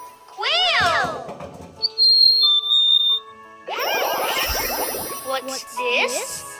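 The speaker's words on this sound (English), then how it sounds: "Quail!" Quail calls ring out close and clear, a few sharp whistled notes mixed with a thin tonal whistle and short chirps separated by brief silences.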